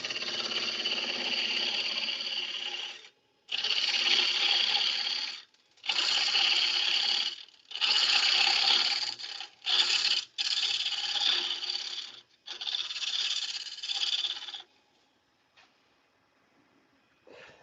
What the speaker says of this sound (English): Carbide scraper, square end, should be at about the center line.